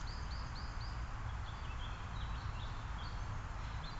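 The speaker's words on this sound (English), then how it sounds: "You can also hear" Birds chirp in short repeated calls in a woodland cemetery, faint and somewhat distant over a steady wash of road noise.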